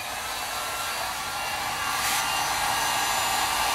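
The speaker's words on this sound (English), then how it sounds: "Put it on the high setting, and I am shrinking the plastic wrap right up onto the EMT pipe." A heat gun on its high setting shrinking plastic wrap onto EMT pipe, a loud steady roaring blow that grows slightly louder partway through, close and continuous with no talking.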